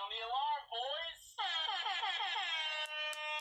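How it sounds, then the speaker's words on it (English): Electronic alarm effect with a repeating warbling, siren-like tone, loud and continuous for several seconds, while people talk faintly underneath. "just sound the alarm again, Matt"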